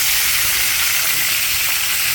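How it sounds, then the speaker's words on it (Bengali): Chicken meat fries in oil in a wok, a loud, dense, unbroken sizzle heard close up for a couple of seconds with no speech. "মাংসটা ভাজা হয়ে গেছে, আমি নামায় ফেলাবো।"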